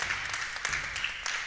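Polite applause in a university basketball arena after a made free throw, a short, moderate patter of clapping from the crowd, fairly even and not very loud.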